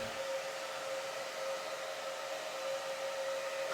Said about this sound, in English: we can feel the heat from the hairdryer